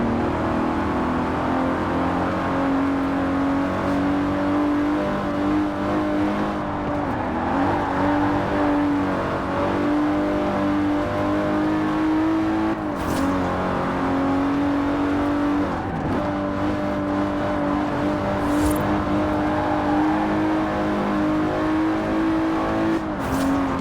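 Aston Martin DB-era Superleggera car engine in Forza Horizon 4, a steady sustained engine drone with slight pitch shifts and a few brief revs, loud and continuous throughout with no talking.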